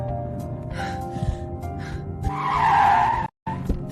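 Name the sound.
car pulling over to the roadside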